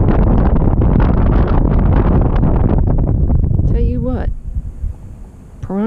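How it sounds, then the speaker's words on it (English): Strong wind buffets the microphone on a fishing boat, a loud, continuous roaring rush that eases toward the end, where a voice speaks briefly. "And the wind, Lord have mercy, the wind."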